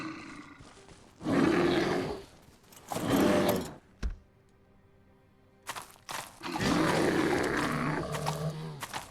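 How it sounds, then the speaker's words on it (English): Deep, rough bear roars in a video game come in three loud bursts, separated by short quiet gaps with a faint rattling sound in between. "There's a bear behind me."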